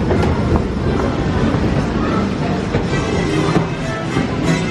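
The DisneySea Electric Railway train at Tokyo DisneySea rumbles and clatters close by, a loud steady roar of wheels on rails throughout.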